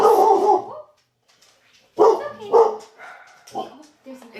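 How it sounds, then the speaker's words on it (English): Dog barking in a few loud, close bursts separated by pauses, with a whimpering yip between them; a person talks at times nearby. "There's another dog."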